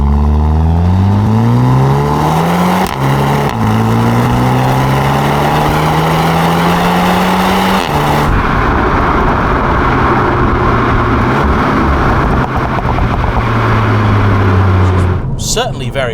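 SEAT Leon Cupra 300 pulling hard in Cupra mode, its engine climbing through the revs in loud rising sweeps with pauses between gear changes, heard from inside the cabin.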